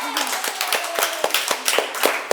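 Studio audience applause on a Hindi-language school quiz show, a steady run of sharp, fairly close hand claps about six per second, the crowd clapping together.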